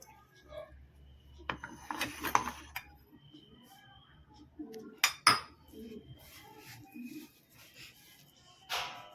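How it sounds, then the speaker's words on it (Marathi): Spice paste, masala and lemon juice being mixed together for a home-style bangda fish fry marinade: scattered clinks and scrapes of a spoon against a dish, with soft handling noises between the louder strikes. "आता हे वाटण आणि हा मसाला, लिंबाचा रस एकत्र मिक्स करून घ्यायचा आहे"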